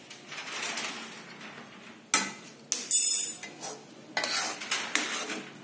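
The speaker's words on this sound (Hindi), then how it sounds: "इसको मिक्स करेंगे" A spoon stirs cardamom powder into a sweet jaggery and sugar barfi mixture in a metal pan, scraping and clinking against the sides in uneven strokes, close and fairly loud.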